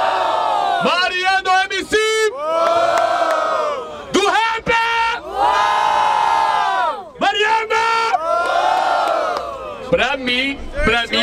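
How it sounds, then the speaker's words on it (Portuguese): Crowd at a Brazilian street rap battle in Barueri, São Paulo, erupting in loud cheers, whoops and yells, with a host shouting over the noise in bursts; the roar rises and dips repeatedly throughout. "Barulho pra quem gostou das rimas do rap!"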